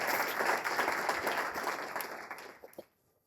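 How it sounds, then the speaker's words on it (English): A keynote audience gives a round of applause, dense clapping from many people that holds steady, thins out and fades away near the end, leaving near silence. "that does deserve a round of applause."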